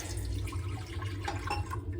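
Tap water runs steadily into a glass beside a slow cooker while pulled pork is being prepared, a continuous close splashing fill that lasts the whole moment, with no talking.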